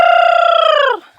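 A single drawn-out chicken call in a backyard, a strong harmonic cry that holds steady for about a second and then drops off abruptly, close and loud.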